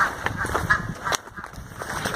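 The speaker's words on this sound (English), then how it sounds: "can you hear them birds, them geese?" Geese honking near an island by the water, a few scattered nasal calls at moderate distance over a faint outdoor background, irregular and unhurried.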